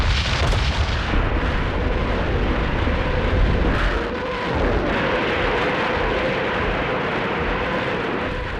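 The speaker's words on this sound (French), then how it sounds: "3000 canons et orgues de Staline écrasent les lignes ennemies" Continuous heavy rumble of massed artillery and rocket launcher fire, dense booms blending into a roaring barrage that persists loudly throughout.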